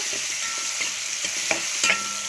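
Tomatoes and eggplant frying together in a pan for a curry, a steady close sizzle broken by a few soft stirring knocks and clinks, with no talking.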